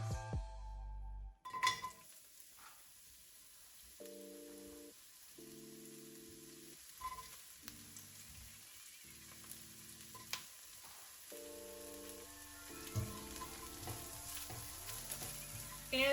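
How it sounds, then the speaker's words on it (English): Scallion whites sizzle and fry in a hot pan for fried rice, a steady close crackle broken by bursts of stirring and light scraping of a utensil against the pan. "Now we're gonna add the scallion white part, so the bottom half of the scallions."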